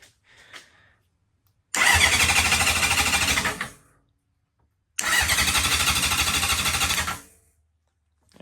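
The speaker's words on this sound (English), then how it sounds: "I'm going to try to start the bike." A Honda CB750 cafe racer motorcycle engine, primed with starting fluid in the carburetors, cranks on the starter in two loud bursts of about two seconds each, separated by silence and never catching.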